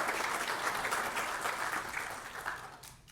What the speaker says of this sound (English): Yeah, you can give them a hand clap too.